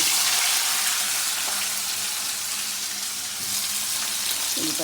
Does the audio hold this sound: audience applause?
no